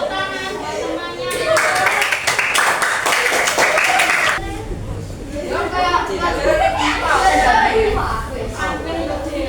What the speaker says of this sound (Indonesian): Beri tepuk tangan buat temannya.